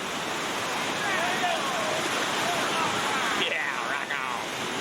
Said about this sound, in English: See a big 6-foot waterfall.